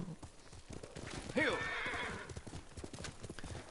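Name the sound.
horse hooves and whinny in video game Ghost of Tsushima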